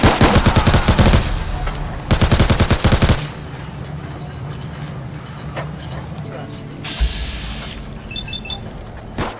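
Gunfire in the video game Fallout 4: two loud rapid automatic bursts up front, then quieter combat ambience with faint scattered sounds and a short electronic tone near the end.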